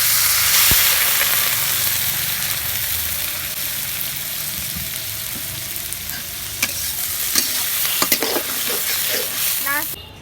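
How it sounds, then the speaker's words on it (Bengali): Water is poured into a pan of frying egg and potato curry, producing a loud burst of sizzling and steam that settles into a steady hiss, with clinks of stirring near the end. "ভাজা ভাজা হয়ে গেছে, এখন আমি পানি দেব"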